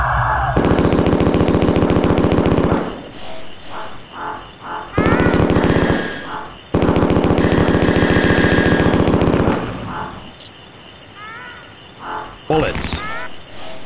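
Rapid automatic gunfire from the 1995 DOS first-person shooter Mortal Coil comes in long, loud bursts separated by short gaps. Chirpy, croaking creature noises and game effects fill the pauses.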